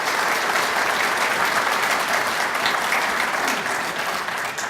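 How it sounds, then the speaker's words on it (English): Breakfast-meeting audience gives a retiree a loud, sustained round of clapping, dense and close, holding steady before easing slightly at the end. "a round of applause for a Chrysler retiree"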